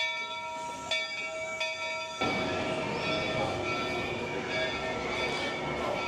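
An amusement park railroad train at Knott's Berry Farm rumbles and hisses along after a brief ringing bell tone, its steady mechanical noise continuing throughout.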